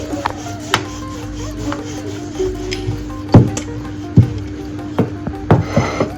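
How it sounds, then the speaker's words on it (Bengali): A wooden rolling pin rolls out a roti on a board, soft scraping rubs with several sharp knocks and thumps as the pin lands, close and intermittent, becoming busier toward the end. "যেমনভাবে রুটি বেলি সেরকমভাবেই একটা রুটি বেলে নিচ্ছি"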